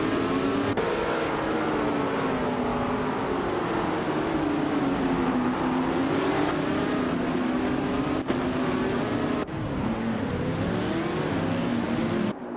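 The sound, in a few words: Formula 5000 race cars on Sydney Homebush Street Circuit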